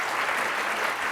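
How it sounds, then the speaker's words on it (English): An audience at a speaker panel claps steadily, a dense, even wash of applause throughout with no talking over it. "Please join me in a round of applause for all of our speakers"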